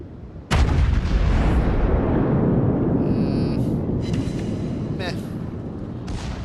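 A Yamato battleship fires a main gun salvo in World of Warships, one sudden loud boom followed by a long rolling rumble that slowly fades, with brief clicks and game effects over the tail.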